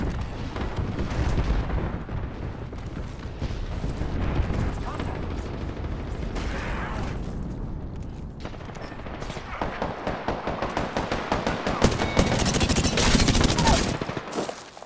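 Continuous gunfire in a shooter video game: dense automatic bursts and single shots crackle throughout, with heavier impacts mixed in, swelling to rapid, loud volleys near the end while a player talks over it.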